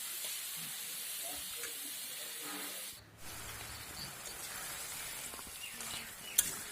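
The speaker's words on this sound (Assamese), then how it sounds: "অলপ সময় এনেকৈ ভাজিম।" Cabbage frying in a pan, given a light fry before water is added, makes a steady, fairly quiet broadband sizzle that runs throughout. There is a brief dip around the middle and a sharp click near the end, and no one speaks.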